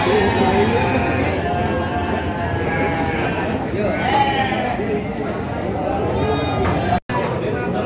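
Sheep bleat repeatedly at a busy livestock market in Padalarang, with steady talk and crowd noise running beneath the calls throughout.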